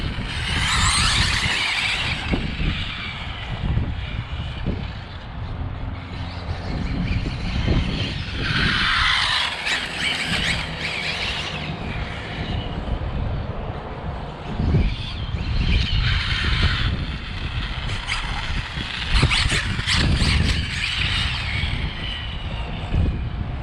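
A Hobao Hyper 9E RC car with a stock Arrma BLX ESC runs on 4S power with rubber tires in a windy parking lot, its electric whine rising in repeated bursts over steady wind roar.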